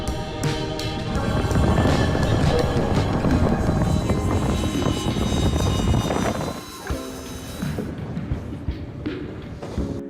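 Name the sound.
Pilatus PC-24 jet landing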